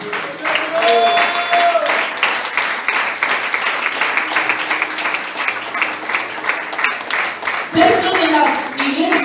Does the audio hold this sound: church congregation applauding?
yes